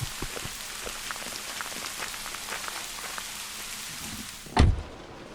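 Steady rain falls and patters on surfaces all around, a dense continuous hiss with scattered drops, ending with a single heavy thud near the close.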